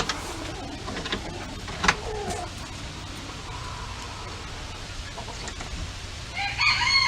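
Chickens cluck and a rooster crows inside a backyard coop being readied for cold weather, the calls fairly faint against a low background with a few nearby bumps and rustles.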